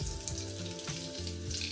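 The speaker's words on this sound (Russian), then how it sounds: "Выкладываю в разогретое масло." Breaded champignon mushrooms frying in hot oil, a steady close crackle and sizzle with a faint low hum beneath, no voices.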